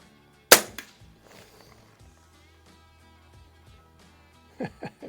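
A Walther LGR air rifle fires a single RWS R10 match pellet, a sharp, close crack at the start that quickly fades, followed by a quiet stretch and a few soft knocks near the end.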